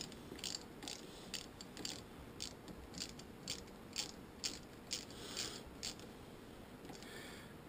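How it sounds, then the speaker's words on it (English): A ratcheting wrench tightening the bolt on a motorcycle clutch or brake lever, giving a steady rhythm of quiet, close clicks repeating roughly every half second with no speech. "Put the old one back in place. Use a wrench. Do not over tighten."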